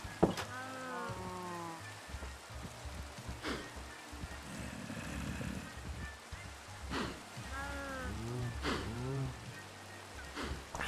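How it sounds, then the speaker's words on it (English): Steady rain hiss in a Minecraft world fills the background as a continuous soft patter, with game cow moos and other creature sounds rising over it at intervals. "God, it's still raining?"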